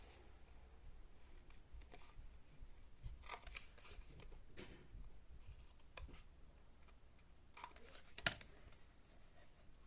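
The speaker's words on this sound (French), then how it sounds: "Voilà, je coupe les coins." Scissors snip the corners of paper for a baby boy birth scrapbook album, a few quiet, sparse cuts spaced over a soft, hushed room background.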